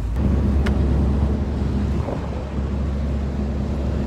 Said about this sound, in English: Idling along in third gear